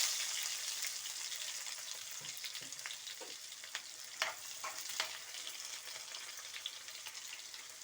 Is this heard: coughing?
no